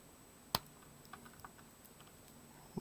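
Cutters trimming CAT6 network cable wires, a single sharp snip followed by faint small clicks and a second, softer snip near the end, all quiet and close.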